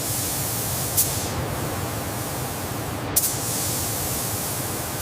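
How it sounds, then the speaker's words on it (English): A robotic spray system coats the nose of a maglev train with primer in a factory, giving a loud, continuous hiss broken by two sharp clicks. "Advanced robotic spray systems apply a uniform layer of primer to protect the vehicle"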